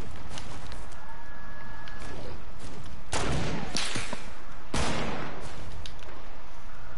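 Gunshots in a video game aimed at gingerbread enemies: several sharp cracks spread over a few seconds, two of them louder with ringing tails, over constant background game noise and some voices.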